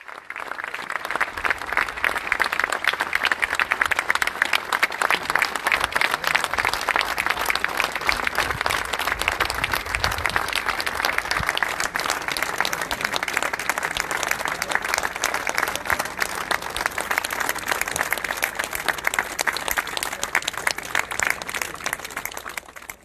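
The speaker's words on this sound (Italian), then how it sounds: "tra il calore di scroscianti applausi e lacrime di commozione" Sustained, dense applause from a large crowd fills an auditorium as a mayor's coffin is carried out at a funeral, a steady roar of clapping lasting the whole time.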